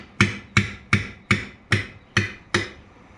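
Seven sharp, evenly spaced hammer blows ring out as a chisel is driven into an axle seal on a ZF APL-365E axle of an AGCO 9650, each metallic strike close and decaying quickly.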